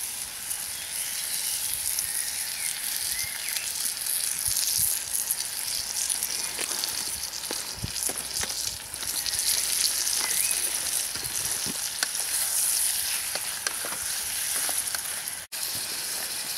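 Food fries in olive oil on a camp stove during a solo bivouac, a loud, steady sizzle and crackle with occasional pops, close up and continuous with no talking.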